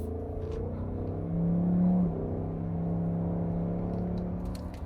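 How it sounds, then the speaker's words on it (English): A 2024 Ford Mustang GT's V8 engine accelerating on the street in sport mode, a steady interior drone that swells into a louder rising pull midway, then settles into a sustained hum. "I hope everybody can hear the engine as good as I can"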